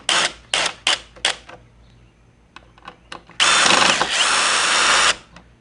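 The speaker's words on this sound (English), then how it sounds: "That's why we're going to use the drill to speed it up." A power drill drives long screws into a light fixture bracket, first in several short separate bursts, then a few faint ticks, then one long steady whir before stopping.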